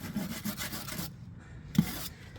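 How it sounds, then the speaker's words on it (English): Scratchy back-and-forth rubbing of a wire brush on a rusty Subaru's metal, close up, in a few quick strokes with a brief pause midway. "start by wire brushing all the rubbish off"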